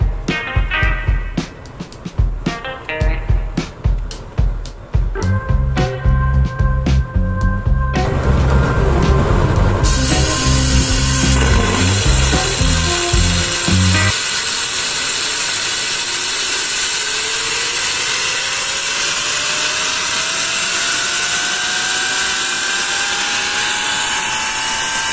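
Small model steam turbine driving a DC generator wired to a 12-volt lamp: a loud stuttering, rattling run-up gives way to a steady high whine and hiss that holds to the end, with no talk.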